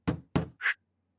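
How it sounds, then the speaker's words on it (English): Crafting an axe in a 3D survival game sets off a sound effect: two sharp wooden knocks in quick succession, then a short airy swoosh, all clean and isolated against silence. "there were two knocks and then some kind of swoosh sound"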